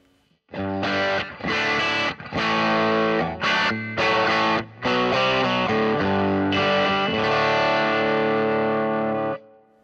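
Electric guitar plugged straight into a Boss Gigcaster 8 through its built-in GT effects, heavily distorted with chorus and some echo, bursts of chopped chords followed by a long sustained ringing passage, loud and solo.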